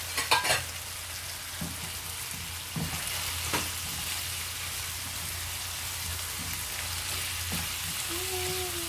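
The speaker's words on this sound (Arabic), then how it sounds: "هنزل بقى بالمشروم واقلب كويس" Mushrooms and chicken frying in a pan with a steady crackling sizzle, broken by spoon-stir scrapes and knocks at intervals throughout, close and continuous with no talk.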